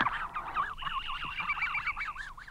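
A flock of migrating snow geese honks continuously, many overlapping nasal calls, fairly close and moderately loud.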